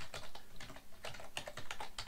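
Quick steady typing of a command on a computer keyboard, a dense run of close, crisp key clicks with an even rhythm and no talk.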